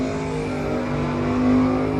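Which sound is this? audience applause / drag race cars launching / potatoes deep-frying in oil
drag race cars launching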